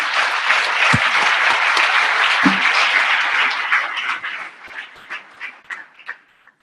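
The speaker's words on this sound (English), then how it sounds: "let's give a round of applause to all of them" Loud, close audience applause at a club meeting, thick continuous clapping for about four seconds that thins into a few scattered claps and dies away.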